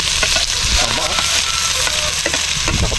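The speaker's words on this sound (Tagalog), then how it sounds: "Igisa muna natin yung pangsisig natin." Onions sautéing for sisig sizzle and fry steadily in a hot pan, with occasional stirring scrapes throughout, close and loud with no talk.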